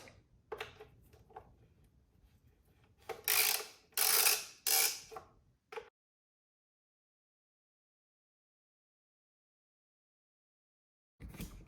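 Ratchet loosening 10 mm bolts on the carbon fiber valve cover of a BMW E46 M3, a few quiet clicks followed by several loud close bursts of rapid ratcheting, then silence.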